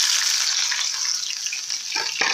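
Chopped onions sizzle loudly and steadily in a cup of hot oil in a frying pan, a constant bright hiss with a few clattering stirs near the end.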